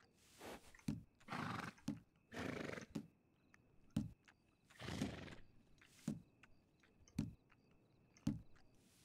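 Horses neigh and whinny repeatedly inside the RedM western game world, several drawn-out calls broken by short snorts and hoof clip-clops, fairly close and with no talking.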